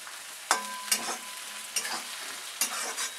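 Grated ginger and garlic paste frying in a pan, a soft steady sizzle broken by several sharp scraping stirs at intervals, close and fairly quiet with no voices.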